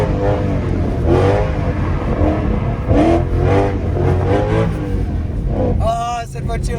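A Mercedes Black Series supercar with a straight-pipe exhaust drifts on a track, its loud engine rising and falling in repeated revving surges with tyre noise, while a person talks over it.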